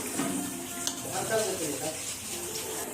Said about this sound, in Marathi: आता बघा छान उकळ्या उकळ्या आले त्याला मस्त मटणाला